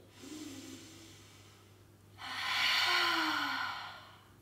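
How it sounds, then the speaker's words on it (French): Breathing exercise in a yoga session: a soft inhale, then a long, deep, breathy exhale through the mouth, close and fairly loud, with a faint low hum behind. "Inspirez profondément, expirez par la bouche."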